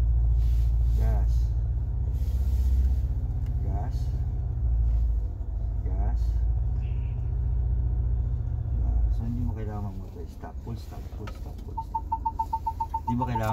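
Ford Ranger Raptor engine rumbling loudly and steadily as it accelerates off-road, a deep continuous drone that eases near the end, with a person talking over it throughout.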